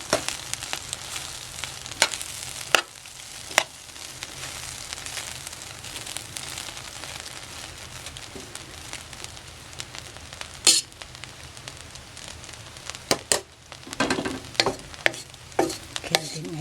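Bihon rice noodles and their ingredients are stirred and tossed in a hot pan, a steady close sizzle with scattered sharp scrapes and clacks of the utensil against the pan.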